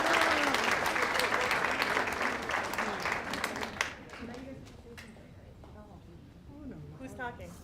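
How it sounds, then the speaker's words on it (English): A banquet audience at a sports hall of fame dinner breaks into sustained, dense applause that fades after a few seconds, followed by a voice speaking over scattered last claps. "So let's give them one more round of applause."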